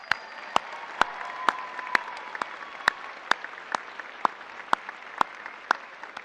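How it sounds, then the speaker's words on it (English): Sparse, quiet applause for students at a high school graduation, a handful of distinct individual claps spaced irregularly across a hushed hall. "a round of applause for these."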